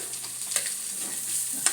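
Garlic cloves, a piece of ginger and cashews frying together in a pan, a soft steady sizzle up close with a couple of brief stirring clicks.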